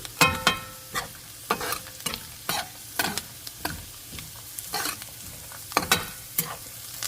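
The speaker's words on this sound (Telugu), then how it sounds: "క్యాబేజ్ క్యారెట్ వేసుకొని హై ఫ్లేమ్ పైన ఒక టూ మినిట్స్ చక్కగా ఫ్రై చేసుకోవాలి" Cabbage and carrot stir-frying on high flame for street-style egg fried rice, with sharp, irregular spatula clanks and tosses against the pan over a constant sizzle; close and without speech.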